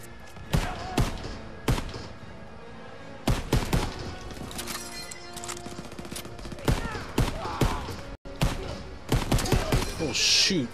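Gunfire in the World War II shooter Call of Duty WWII during a farm battle, with bursts of shots and rapid machine-gun fire mixed with thuds and impacts, loud and close, with a voice talking over it.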